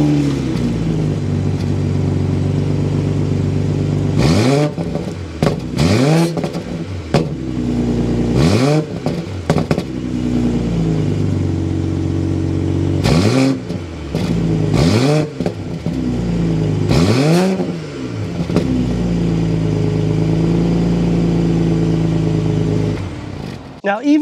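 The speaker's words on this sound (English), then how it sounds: "Let's go inside, start it up so we can hear that exhaust note." A 2023 BMW 540i's twin-scroll turbocharged inline-six engine starts and is revved repeatedly, each rise and fall of the exhaust note clear and close, with short pauses between blips.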